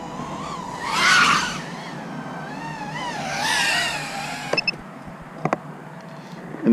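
A Fouride 4-inch FPV quadcopter drone flies in to land, its high motor whine swelling and fading in two passes before a few light clicks and knocks as it settles.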